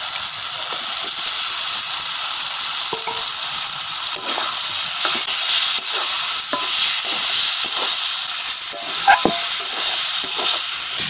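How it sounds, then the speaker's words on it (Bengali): Fried potato and cauliflower tumble into a sizzling spice paste in oil, giving a loud, continuous close frying hiss with scattered scraping and stirring clicks and no voices. "এবারে দিয়ে দেবো ভেজে রাখা আলু ফুলকপি।"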